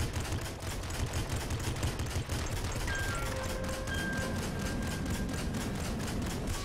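Rapid gunfire from a weapon in the top-down shooter Nuclear Throne, a dense, continuous stream of shots hammering without pause throughout, loud and close, with faint electronic game tones layered over the middle.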